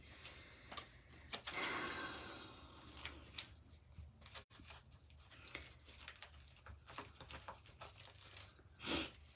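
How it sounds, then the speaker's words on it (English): Hebrew cards being shuffled by hand, a dry papery riffling and rustling with scattered soft taps and flicks, close and quiet, no talk. "I'm just shuffling the Hebrew cards"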